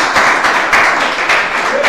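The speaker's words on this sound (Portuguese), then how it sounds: "A salva de palmas para Jesus Cristo." A church congregation applauding during a worship service, a steady close wash of many hands clapping with a rhythmic pulse throughout.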